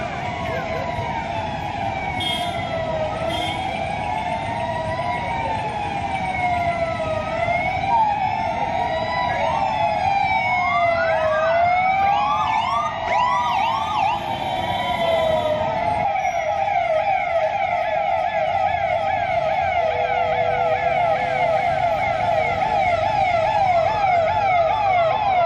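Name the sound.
police vehicle sirens during a night route march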